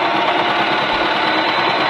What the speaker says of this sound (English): it's time to get this into the sewing machine and start sewing